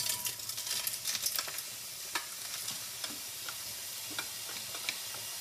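Steamed tindora tipped into hot oil with popped mustard seeds, setting off a busy sizzle and crackle that settles into steady frying with occasional stirring clicks.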